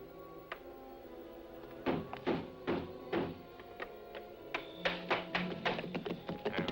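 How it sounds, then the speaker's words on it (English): Men batter at a wooden door in a western film scene, with a series of loud, irregular thuds and knocks that grow more frequent and forceful toward the end. "boys, break the door down."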